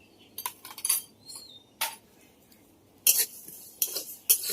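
Bay leaf pieces, peppercorns, fennel seeds and parboiled rice being stirred and fried in a pan: sparse metallic scrapes and clinks of a spoon against the pan, with bright bursts of sizzling toward the end, close and without speech.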